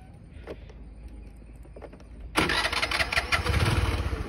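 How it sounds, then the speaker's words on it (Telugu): A Honda Activa 3G scooter starting: a few quiet clicks and handling noises, then the engine catches abruptly and settles into a loud, steady, close idle. "సో ఒకసారి ఇంజిన్ అయితే ఆన్ చేస్తాను."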